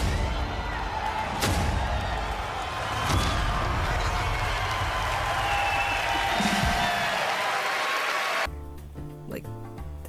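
A large crowd at the E3 2019 press conference cheers and applauds steadily in a dense, continuous roar with a few sharp claps and whoops, then the noise drops away abruptly near the end.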